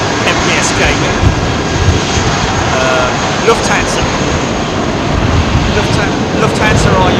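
An Airbus A350 jet airliner roars steadily at London Heathrow Airport as a loud, continuous broadband rumble that fills the whole stretch without fading.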